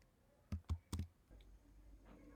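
Typing a command on a computer keyboard during a software tutorial, a handful of close, crisp key clicks in a quick cluster, followed by a softer tap or two against a quiet background.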